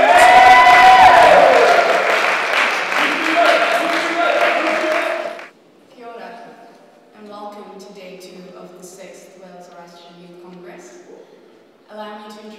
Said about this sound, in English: So ladies and gentlemen, a loud round of applause for Sanaya Master.